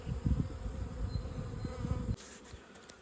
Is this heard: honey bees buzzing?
yes